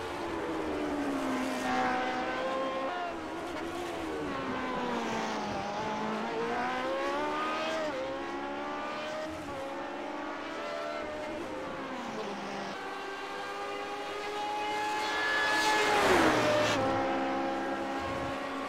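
Race cars roar down the long straight at Road Atlanta during a BOFA Indy Classic Series round, engine notes rising and falling with shifts and Doppler sweeps, one car passing loudly near the end, with no talk.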